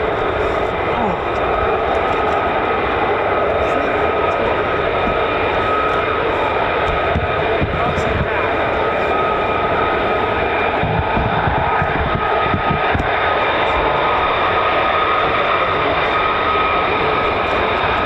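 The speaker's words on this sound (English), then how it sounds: "So we've got F-35s and F-15s." F-35 and F-15 fighter jets fly over the 48th Fighter Wing at RAF Lakenheath, a loud, unbroken jet roar that holds steady throughout, with a voice faintly over it.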